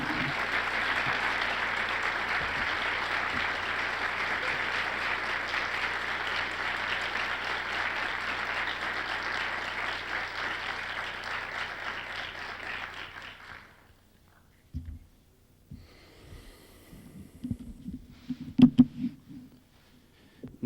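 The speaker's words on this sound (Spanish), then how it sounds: "quisiera pedirles un fuerte aplauso para el doctor Esteban Mezaros Guay" Sustained audience applause fills a conference hall after a speaker is introduced, a dense, steady clapping that runs loud for about thirteen seconds, then stops abruptly, followed by a few scattered handling noises.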